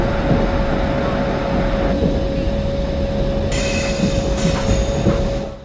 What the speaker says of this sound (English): Push the throttle gently. Now keep going and reach a speed of 40.